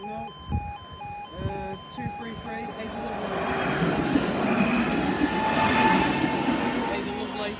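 Level crossing alarm tones chime steadily at Brickyard Lane as a National Rail train rumbles past, its roar building and holding near, with a voice briefly audible early on.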